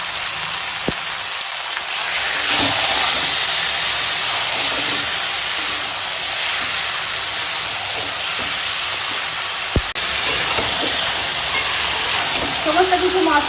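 Marinated meat with chopped capsicum fries in a pan. A soft sizzle swells into a steady, louder hiss after a couple of seconds, broken by a few sharp clicks.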